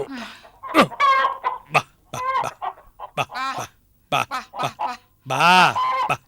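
A chicken clucks in short bursts, close by, in a Malayalam domestic drama scene where someone is told to catch the hen; people talk over and between the calls.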